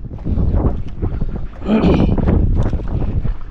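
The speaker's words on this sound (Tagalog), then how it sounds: "Lakas nung lamig ng simoy nung hanging amihan." Cold northeast monsoon wind blows steadily at sea, a loud, rough, continuous rush of air buffeting the microphone for the whole stretch and swelling at about the midpoint.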